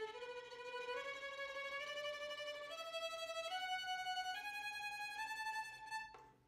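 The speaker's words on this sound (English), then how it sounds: "Bow technique number 18 is bowed tremolo." Violin playing bowed tremolo, rapid shimmering repeated bow strokes sustaining a slowly rising sequence of notes, moderately soft and alone before stopping abruptly.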